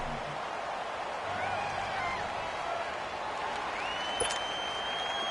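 Stadium crowd in the Madden 19 football video game on PS4, Eagles versus Packers, swelling into a steady, fairly faint roar of cheering and applause as a big third down approaches, with faint tonal game sounds layered above.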